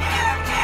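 Chickens in the video game Guacamelee clucking over loud, dense game sound, with a brief burst of fowl calls mixed into the steady background.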